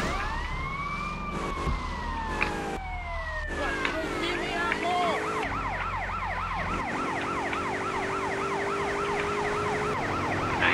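Police car siren in GTA Vice City, a loud wailing tone sweeping up and down in repeated cycles, switching to a faster warble partway through, with game traffic and engine noise underneath and people talking over it.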